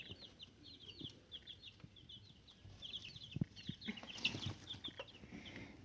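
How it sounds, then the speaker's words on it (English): Chickens and a rooster on a farm cluck and chirp continuously at a moderate distance, with scattered bird calls overlapping throughout and a slightly louder flurry near the end. "I actually think that one right there is a rooster."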